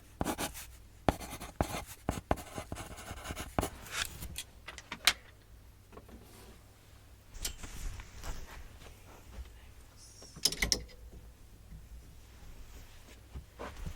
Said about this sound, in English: And then I'm just going to write it here.